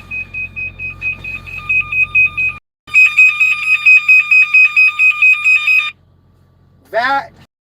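A shrill pulsing alarm in a truck sounds in rapid repeated beeps, first at a lower level, then after a brief gap much louder, before stopping; a short burst of a different sound follows at the end.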